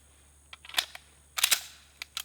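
A Sig Sauer P226 Legion pistol fired at an outdoor range, with several sharp, close reports and short tails, two of them in quick succession near the middle, alone without talk.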